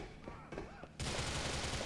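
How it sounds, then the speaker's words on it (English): Gunfire in Grand Theft Auto IV breaks out as a sudden dense burst of rapid shots after a quieter opening with faint voices, continuing loud and busy to the end. "Probably someone is still shooting."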